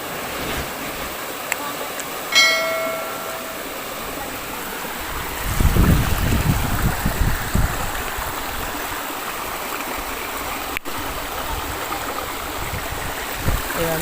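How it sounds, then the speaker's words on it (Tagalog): Continuous rushing flow of mountain spring water close by, with a brief louder splash midway and faint background noise, no talking. "Bukal yan doon galing doon sa bundok."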